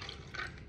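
Iced coffee with chocolate poured into a glass, a soft continuous liquid splash and trickle, quiet and close, lasting under a second.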